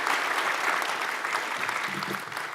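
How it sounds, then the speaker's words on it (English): An audience applauds a panel at a community conversation on gun violence in Howard County, a brief, steady burst of clapping from a modest crowd in a hall, fairly close and even throughout. "Let's give them a round of applause, please."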